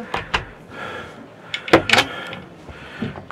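Wardrobe door in a caravan at a trade show being opened and handled, giving a few soft knocks and clicks followed by a sharper pair of clunks midway, with quiet hall ambience throughout.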